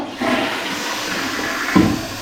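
A toilet at an airport flushes in one loud continuous rush of water, close by and alone, swelling briefly near the end.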